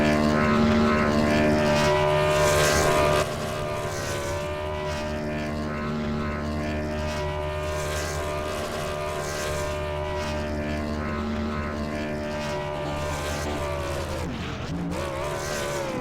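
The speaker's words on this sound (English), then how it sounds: "there goes the 87 of Justin Michael burning down those tires" The No. 87 Chevrolet Camaro race car burns its tires at Talladega Superspeedway, a loud, close engine roar that drones continuously, drops in level after a few seconds and dips briefly in pitch near the end.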